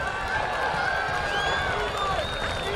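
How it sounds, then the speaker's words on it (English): A stadium crowd at a Norwalk varsity football game against Lewis Central applauds and cheers the Norwalk Warrior Marching Band, with a steady, broad roar of clapping and a few whistles carrying across the field. "How about another round of applause for the Norwalk Warrior Marching Band?"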